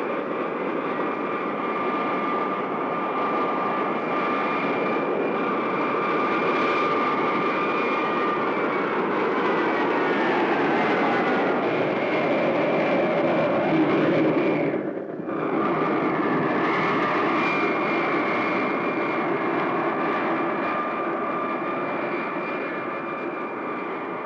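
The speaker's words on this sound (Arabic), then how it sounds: "نقترب الآن من ميناء القاهرة الدولي" An airliner on approach to Cairo airport drones steadily with a loud, continuous engine roar and whine that briefly dips midway before resuming.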